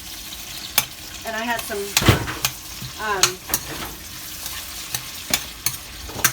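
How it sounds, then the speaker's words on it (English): Onions sauté in a hot pan while a utensil stirs them, giving sharp scraping clatters over a soft sizzle. A person speaks briefly between the stirring strokes. "Give that a stir."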